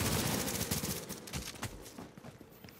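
Shotgun blasts ring out in The Division video game, with rapid overlapping booms in a dense, loud burst that fades toward the end, no talking over them.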